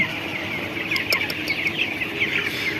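Nineteen-day-old broiler chickens in a poultry shed give soft, continuous clucks and chirps, a steady flock murmur with a few sharper calls, and no one talking.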